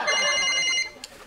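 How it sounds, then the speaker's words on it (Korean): An old-style telephone bell rings in a steady electronic trill for about a second, loud and close, in a Korean comedy sketch, then stops abruptly. "이렇게 중요할 때 꼭 전화가 와요."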